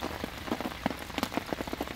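Rain falls on a reservoir during a fishing outing, its drops pattering steadily and close with scattered louder taps against nearby surfaces.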